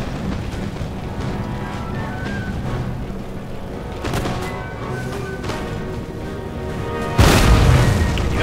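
Cannon artillery in the Empire: Total War video game: a heavy boom lands near the end after a stretch of quieter battle ambience with scattered distant thuds.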